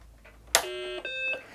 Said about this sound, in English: The BBC makes a particular beep type noise when it powers up